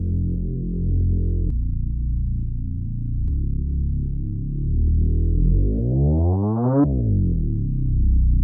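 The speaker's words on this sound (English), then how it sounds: "for slide effect I use one-shot bass" A one-shot bass slide in a hip-hop beat: deep, loud sustained bass notes that hold, step, then glide upward in pitch before cutting off, with no voices.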